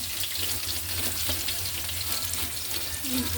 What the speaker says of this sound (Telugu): మిరపకాయలు వేగిపోయాగా ఇప్పుడు ఉల్లిపాయలు వేస్తున్నాను